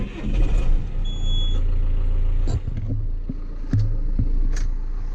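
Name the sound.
John Deere tractor engine running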